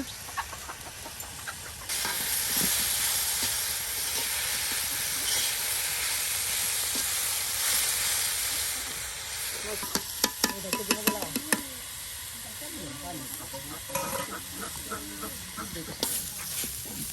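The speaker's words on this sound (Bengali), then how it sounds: "এটাকে ভালো করে তেলের সাথে মশলার সাথে জাল করে নেওয়া হচ্ছে" Sliced radish fries in oil with spices in a village kitchen, giving a loud, steady sizzling hiss that later eases into softer crackling and stirring clatter. A person talks, and a rooster or chickens can be heard faintly.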